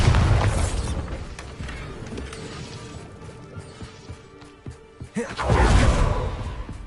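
In the video game Hogwarts Legacy, the Bombarda spell goes off in heavy, rumbling booms: one burst at the start, then a second blast near the end, with crackling debris between them.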